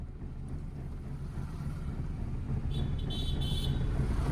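A car pulls away slowly in first gear with the clutch held, giving a low, steady engine rumble close by that swells slightly toward the end, with faint higher tones appearing briefly near the finish.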